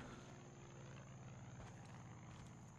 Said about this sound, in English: Really, helicopter?